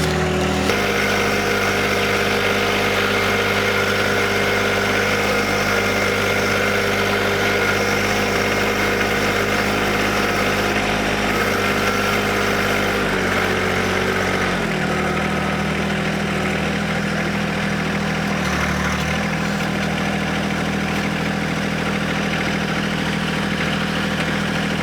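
Tractor engine idling steadily nearby, a continuous low throbbing drone with a couple of brief dips in speed partway through, no talk over it.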